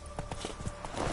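Roach the horse trotting along in The Witcher 3, a steady run of hoof clip-clops, fairly close and moderately loud, with no talk over them.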